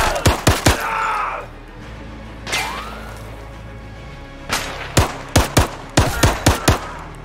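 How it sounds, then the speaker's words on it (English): Gunfire in the VR shooter Zero Caliber, loud punchy shots in quick bursts of three to five with reverb tails, separated by pauses with mechanical handling and a whooshing sweep. "The guns sound good as well. They sound powerful and they've got added reverb when you're inside."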